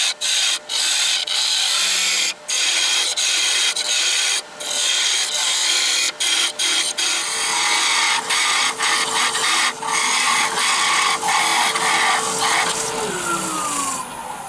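A wood lathe spins a turned wooden piece while a parting tool cuts into it, making a continuous loud scraping, rasping hiss, broken by brief dips and small knocks as the cut deepens.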